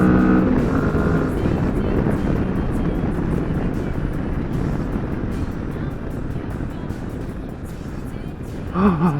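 Kawasaki Vulcan S motorcycle climbing a steep hill, its engine droning steadily under loud wind rush from start to finish, with a short burst of voice near the end.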